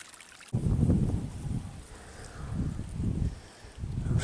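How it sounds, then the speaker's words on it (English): Water burbles and splashes in uneven pulses, close and fairly loud, like a shallow, clear, rocky creek running over rocks at a small rocky dam, with no one talking. "Little ripples over the rocks. Very shallow, rocky dam."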